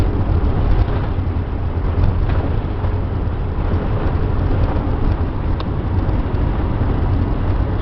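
A Holiday Rambler Class A motorhome engine runs at a steady idle, a loud, continuous low rumble that holds evenly throughout with no talking.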